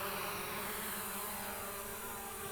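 An Attop W80 4K GPS drone spins up its motors for an automatic takeoff, producing a faint, steady, insect-like buzzing whine throughout.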